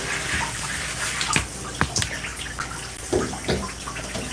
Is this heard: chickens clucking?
no